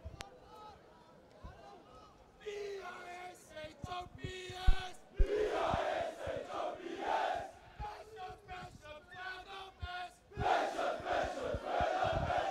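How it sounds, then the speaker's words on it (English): Bishops school crowd at a rugby match against St. Andrew's College, loud massed rhythmic chanting rising from about halfway in and swelling again near the end, under a commentator's voice. "And here is the Bishops crowd with a chant to come."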